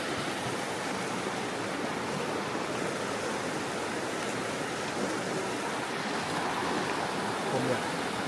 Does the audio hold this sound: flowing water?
yes